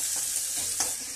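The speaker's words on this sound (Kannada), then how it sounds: "ಹಾಕೊಂಡು ಒಂದ್ ಸ್ವಲ್ಪ ಹಸಿ ವಾಸನೆ ಹೋಗೋ ತನಕ ಫ್ರೈ ಮಾಡ್ಕೋಬೇಕು ಇದನ್ನ." Ginger-garlic paste sizzles in hot oil in a pan on low flame while being stirred, a steady close frying hiss with a couple of soft scraping strokes, no voices.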